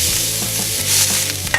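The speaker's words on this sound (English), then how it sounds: "I'm gonna be throwing my beef balls into the pan, and then I'm gonna be very quickly squashing them down" Beef balls for smash burgers sizzling loudly in a hot pan as they are squashed down, a dense close hiss with brief scraping touches.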